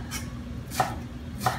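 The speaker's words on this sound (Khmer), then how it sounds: "យើងហាន់ល្អិតដូចគ្នាអញ្ចឹងហាន់ល្អិត" A knife finely chopping ingredients on a cutting board for stuffed bitter gourd with pork, three sharp close chops spaced evenly over a steady low background hum.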